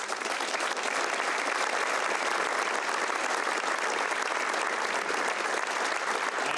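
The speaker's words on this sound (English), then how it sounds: "Let's give them a round of applause." Sustained applause fills a school scholarship awards night as an audience claps for academic award winners, a dense, even patter of many hands that holds steady throughout.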